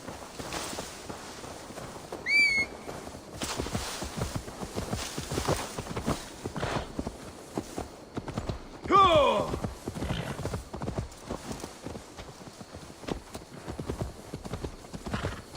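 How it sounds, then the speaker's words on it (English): Horse hooves clip-clop at a walking pace in Assassin's Creed Valhalla, a steady run of dull knocks throughout, with a couple of brief whinnies and a voice speaking over the game sounds. "Now to deliver Magni his horse."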